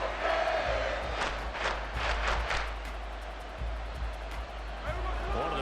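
Stadium crowd roar in a football video game as a big third down approaches, a sustained loud swelling hubbub with cheering surges, under a commentator's voice.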